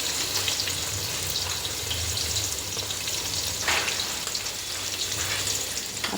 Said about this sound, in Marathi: हा कांदा छान आपण तेलात परतून घेऊया